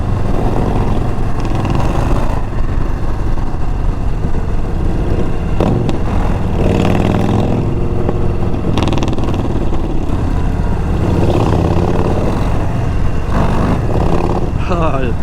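A 2022 Harley-Davidson Low Rider ST on a test ride: its engine drones loudly and continuously with heavy wind rush, and a rider's voice talks over the noise.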